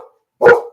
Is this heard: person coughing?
no